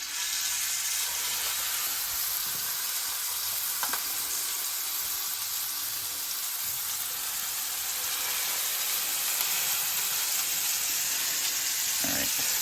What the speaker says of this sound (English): Oil is in. And we're gonna take our patties.